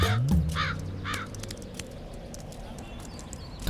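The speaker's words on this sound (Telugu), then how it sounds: "హే, కాకి వచ్చింది." A crow caws a few times near the start, harsh and close, then quiets as outdoor background noise with light clopping continues.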